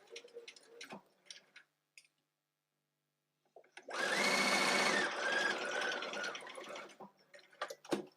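A domestic sewing machine stitches the side seam of a basic bodice toile in a steady, buzzing burst of about three seconds, alone after a quiet pause, with faint handling clicks around it.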